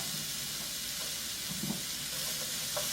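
Bean sprouts and fish cake stir-fry in a hot pan, giving a steady, close sizzle and hiss with faint scraping of stirring throughout.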